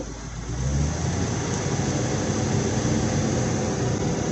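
A 1979 Chevy van engine, started on a cold morning in the high 20s, catches at once and settles into a steady, loud, close idle with a continuous low rumble.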